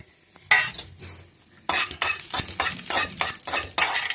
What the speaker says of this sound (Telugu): సిమ్లోనే వేపుకోవాలండి.